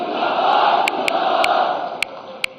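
A large crowd at a BJP membership campaign event claps and cheers in a loud, continuous roar, with a few sharp clicks cutting through.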